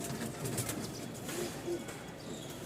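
Rajshahi Giribaz pigeons coo in low, soft murmurs, a few muffled calls repeating over a steady background hum and faint rustling.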